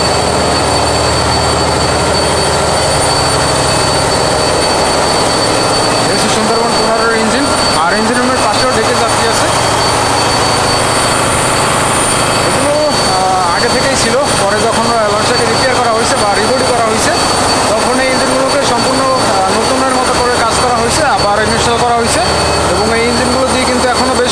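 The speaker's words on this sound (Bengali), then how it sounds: "আর এই লঞ্চের ইঞ্জিনও হচ্ছে ডাইয়ারশো ইঞ্জিন" A loud, steady engine drone fills a crowded river passenger launch on the Barishal route on a winter night, heard from the front deck near the engine room, with voices in the background throughout.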